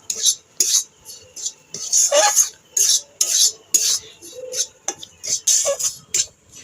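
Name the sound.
roasting semolina and flour in a pan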